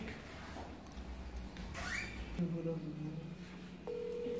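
A telephone rings with steady, fairly loud electronic tones in the second half of the clip. Background noise and voices sit around it.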